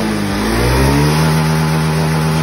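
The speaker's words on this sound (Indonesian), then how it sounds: "Kita akan coba gas bahwa apakah motor ini normal." Honda Beat Street scooter engine after a throttle position sensor replacement, revved up close and loud, the pitch climbing smoothly then holding at a steady high drone.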